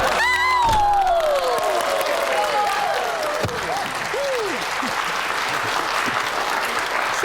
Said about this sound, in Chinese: 带了大家这么久的课，第一次有掌声。